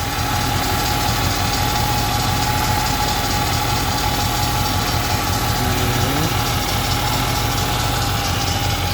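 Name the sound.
old car alternator whining with engine idling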